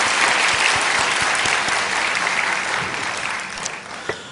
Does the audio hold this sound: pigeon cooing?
no